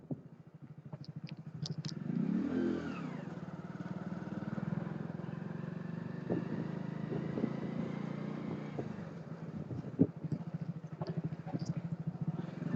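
A motorcycle ridden on a local road, its engine running steadily close by throughout with a drone and small rises in revs, plus a sharp clack near the end; no talk.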